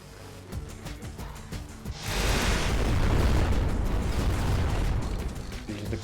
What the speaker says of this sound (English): Oh yeah, I forgot I have a rocket launcher.